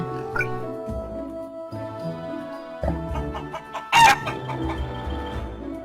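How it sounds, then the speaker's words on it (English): A chicken clucks and crows at close range, repeated harmonic calls with a louder squawk near the end, set against a steady tonal background. "A chicken."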